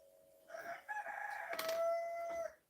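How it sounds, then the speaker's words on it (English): A rooster crows at dusk in New Zealand, one drawn-out, fairly close call rising and holding before tapering off, with no other sounds around it. "Can you hear that fucking rooster?"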